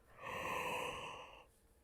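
A single long yawn, an exhaled breathy sound rising and holding for over a second before trailing off, close and fairly quiet with no talking.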